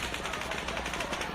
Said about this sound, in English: hearing the gunfire or the people screaming in the crowd